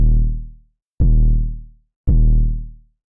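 Three punchy 808 bass hits with their long tails cut short and faded out, each booming low note decaying smoothly over well under a second, spaced evenly with clean gaps between them.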